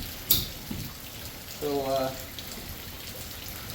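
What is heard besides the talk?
rain and running water during a thunderstorm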